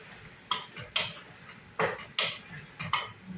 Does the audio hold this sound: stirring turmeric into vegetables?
yes